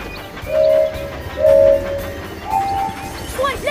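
A cartoon train toots its whistle in three short bursts, the last one higher, over a low, steady rumble of running along the tracks.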